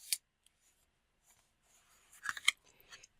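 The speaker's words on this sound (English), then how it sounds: "And you can see, just cutting that along. I'm using my Fun Stampers Journey Grand Pro Shears, nice solid weight scissors." Heavy Fun Stampers Journey Grand Pro Shears cutting through card paper, a few faint, crisp snips, one near the start and a small cluster toward the end, in a quiet room.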